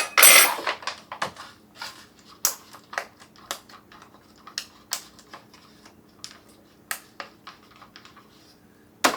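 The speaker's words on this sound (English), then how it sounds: "Give that a good stir." A spoon stirs freeze-dried chicken queso pasta inside its pouch or container, making a string of irregular light clicks and crinkly scrapes, close and fairly quiet, with a louder rustle at the start.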